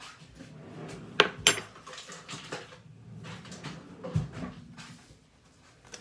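Pancake batter being mixed in a bowl, light clinks and scraping of a utensil against the bowl with a couple of sharper knocks, fairly quiet and close.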